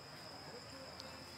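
A quiet, unbroken high-pitched trill of crickets rises from grass in rural Guizhou, faint and steady throughout, over a low, hazy ambient background.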